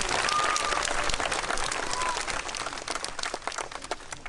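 An audience in Amiens breaks into sustained applause for a performing seal, dense clapping that stays loud before easing slightly toward the end.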